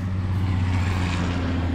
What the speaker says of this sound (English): as I compete with the noise of that dump truck.